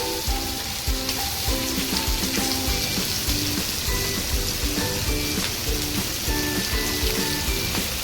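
Prawns fry in a pan on a gas stove with a dense, steady sizzle and crackle, close and fairly loud throughout, with small pops and a few scraping clinks scattered through it and no voices.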